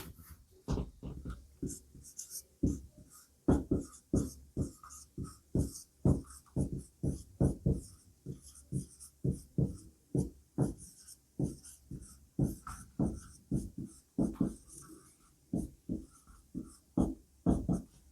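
Pen or marker writing out a sum while solving a maths problem, a rapid run of short scratchy strokes in an uneven rhythm, close and fairly faint, with no talking.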